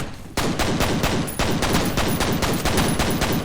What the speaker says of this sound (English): I'm gonna switch to the pistols.